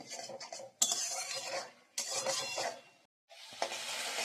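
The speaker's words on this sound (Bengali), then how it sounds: "এবার নেড়ে চেড়ে এটাকে একটু কষিয়ে নেবে" Spice paste with salt, turmeric and sugar sizzles in a pan for snake gourd curry, stirred in scraping bursts with clanks of a spoon against metal, broken by short pauses, close and fairly loud.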